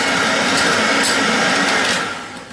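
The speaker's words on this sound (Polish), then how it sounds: "Dolewamy kwaśną śmietanę i wszystko razem ubijamy." A mixer whips beaten egg mass together with sour cream for a Polish Easter pascha, a steady loud whirring drone that tapers off slightly at the end, with no talking.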